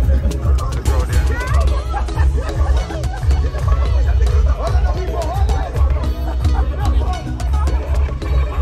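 A dense, steady hubbub of a close crowd at the Batabano carnival in Grand Cayman: overlapping chatter and scattered laughter fill the whole stretch, with low thudding pulses running underneath.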